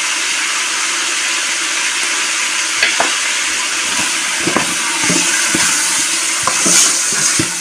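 Lamb pieces with vegetables and plenty of onion fry in oil in a pot for couscous, a loud steady sizzle and hiss with occasional light stirring clicks, close up.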